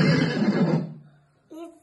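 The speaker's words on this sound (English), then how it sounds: "It's a horse." A horse whinnies loudly for most of a second, trailing off into quiet before a short tonal voice-like sound enters near the end.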